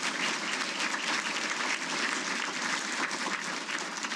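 Applause for a Hall of Fame inductee at an induction ceremony, a steady wash of crowd clapping, moderately distant and even throughout, with no voices over it.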